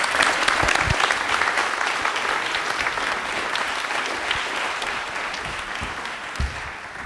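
A studio audience at a televised college quiz show in Jaipur breaks into sustained, dense applause that holds steady for several seconds and then slowly tapers off.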